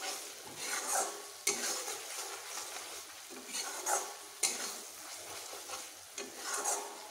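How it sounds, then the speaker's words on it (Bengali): A mustard and poppy seed paste with garlic and ginger being lightly sautéed in a pan, a soft frying sizzle broken by rhythmic swishes and scrapes of a spatula, close and without talk. "এখন আমি এটিকে হালকাভাবে একটু কষিয়ে নেব"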